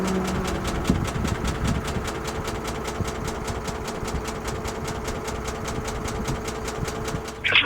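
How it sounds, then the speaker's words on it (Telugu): A faulty lorry engine knocks under revving, a fast, even, metallic tapping that runs loud and continuous over the engine's drone, with a brief clatter at the very end. "కటకట చూడు రేజ్ చేస్తే సౌండ్ వస్తుంది."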